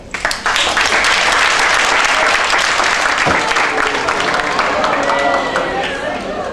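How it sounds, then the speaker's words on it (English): A large audience at an awards ceremony claps steadily and loudly, a dense sustained applause that tapers slightly toward the end, with a few voices mixed in. "Please, let's give a big applause for Mr. Enrique"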